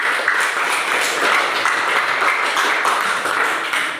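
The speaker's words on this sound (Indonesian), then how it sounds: "Ya, kita berikan aplaus untuk mereka." Classroom applause for a student group that just presented a procedure text on making papeda, a steady wash of many hands clapping at moderate distance for about four seconds, with no talk over it.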